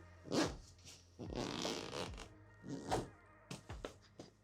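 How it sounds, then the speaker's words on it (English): A packing cube full of rolled clothing being zipped shut, several quick rasping zipper pulls of different lengths with short pauses between them, close and fairly quiet. "And then it is ready to zip."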